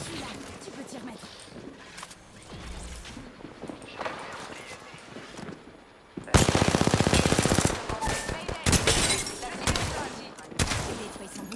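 Rapid automatic gunfire in the video game Apex Legends, a loud sustained burst followed by further shots, with a voice talking before it.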